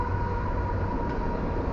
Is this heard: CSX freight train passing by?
yes